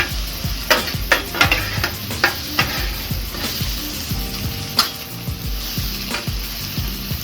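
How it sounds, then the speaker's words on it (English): Potatoes, onions and peppers frying on a flat top griddle, a constant loud sizzle broken by repeated sharp spatula scrapes and taps as the vegetables are mixed, close and without talk. "we'll just make sure these veggies are fully mixed pretty well"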